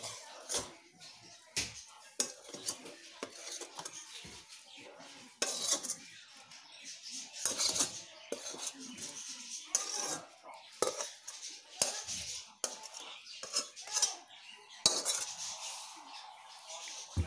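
Cooked spice masala mixed with chicken in a pot for chicken biryani: repeated scraping clinks of a metal spoon against the pot, irregular and close, with faint talk in between.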